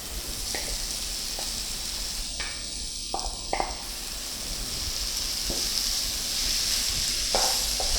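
Ground lentil paste for paruppu urundai sautéing in a pan, a steady sizzle and hiss with occasional scraping stirs and clinks, close by and without talk.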